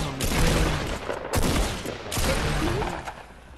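Fortnite gunfire: a dense, loud fusillade of shots in bursts, with brief pauses between volleys, close and continuous across the clip.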